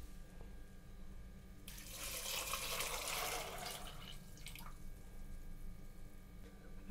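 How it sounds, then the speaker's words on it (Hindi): Water poured from a pot into a pressure cooker holding soaked kidney beans, a loud gushing splash lasting about three seconds that trails off into a few drips, alone with no talk. "एक लोटा पानी डाल रही हूँ।"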